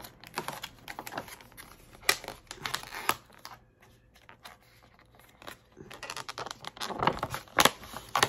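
Plastic packaging around store-bought sushi is pulled open close up, giving irregular crinkles, crackles and sharp clicks that come in bursts, with a quieter stretch in the middle.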